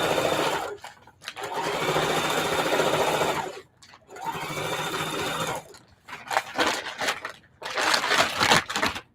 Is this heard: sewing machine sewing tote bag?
yes